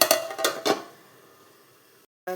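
A metal lid goes onto a cooking pot holding small and large onions with salt, a few quick close clanks and a ringing rattle that fades, followed by one more short knock.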